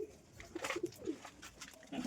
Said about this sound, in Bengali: এইখানে অনেক পায়রা আছে